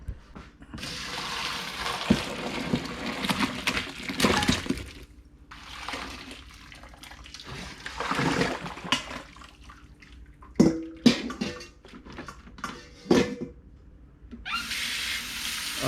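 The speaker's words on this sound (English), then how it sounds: "Let dump all the water out from the pot." Water is poured out of a cooking pot while neck bones are cleaned for daikon soup, coming in several bursts of splashing and gushing, separated by gaps and followed by a few sharp clattering knocks.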